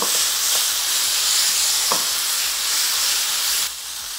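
Curry with tomatoes and tamarind paste sautéing in a pan gives a steady, loud sizzle throughout, with a few faint utensil taps, easing slightly toward the end.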